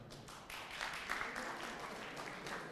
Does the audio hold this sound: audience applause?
yes